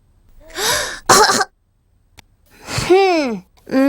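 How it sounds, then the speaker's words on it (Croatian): A cartoon piglet child gives a few short, forced coughs in a voiced, acted style, with a breathy gasp before and a rising-and-falling vocal sound after, close and clear against silence. "Sad, George, duboko udahni, onda kašljaj."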